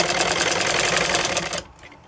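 Sewing machine stitching zig-zag lace onto a V neckline: a fast, even run of needle clatter lasting about a second and a half before stopping abruptly, close and moderately loud.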